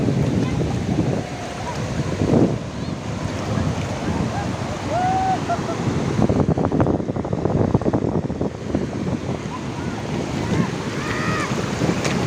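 Waves wash onto the beach at Karde and Ladghar on the sea coast, a steady broadband surf roar mixed with wind buffeting the microphone, loud and continuous throughout with faint voices in the background.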